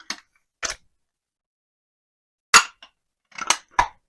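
A Joniskeit Hurrican Air FAS 606 air pistol is charged through a valve fitting, giving a few short, sharp clicks and hisses separated by silence, with a cluster of three quick bursts near the end, close and clear.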